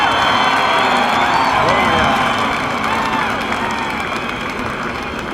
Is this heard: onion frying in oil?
no